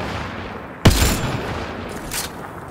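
A sudden loud burst of gunfire cracks out in the video game Mass Effect: Andromeda, followed by a fainter second shot, against a low background hum.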